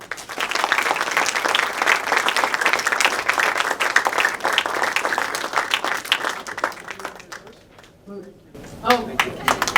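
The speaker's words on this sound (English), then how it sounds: "Let's give them a great round of applause." An audience claps in loud, dense applause after a panel discussion. It fades toward the end, and a voice speaks over the last moments.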